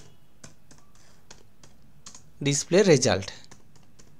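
Computer keys tap in a steady run of light clicks, broken by a short burst of speech, then the typing resumes.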